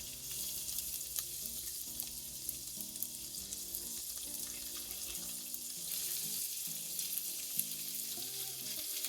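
Ground beef frying in a pan over low heat, giving a steady close sizzle with faint scraping as it is broken up, continuous and without talk.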